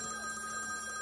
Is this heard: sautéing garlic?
no